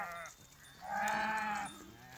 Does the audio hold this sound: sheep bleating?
yes